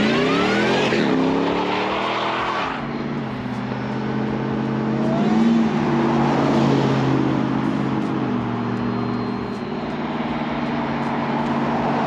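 A Ford SVT Lightning pickup truck driving hard on a closed course, its engine revving up and shifting through gears, loud and close, with rising pitch sweeps and sustained roaring between shifts.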